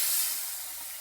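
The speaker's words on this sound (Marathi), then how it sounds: "हे बघा उकळतंय बघा, असं उकळू द्यायची बघा." Curry boils in a pan, giving off a steady, close, airy hiss of steam and bubbling that stays even and alone throughout.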